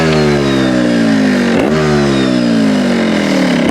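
A trials motorcycle revs hard close by, engine pitch climbing, dipping sharply mid-way, then rising again as it rides and accelerates, loud and continuous with no talk.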